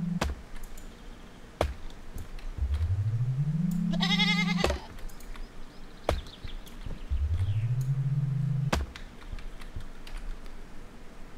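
Two rising, drawn-out goat bleats from the Airport Renovator video game, the first with a bright wavering tone, sound over a steady hum, punctuated by sharp clicks and thuds.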